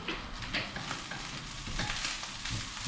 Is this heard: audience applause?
no